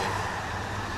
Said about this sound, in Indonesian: Bus Parwis lagi, Makmur Mandiri.